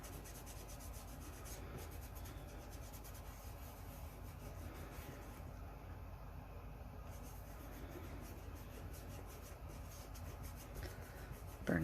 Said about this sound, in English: So I'm just going to dip my gloved finger in and rub it down.